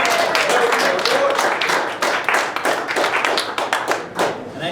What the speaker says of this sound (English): can you join me in giving Duke a round of applause for bringing us all together?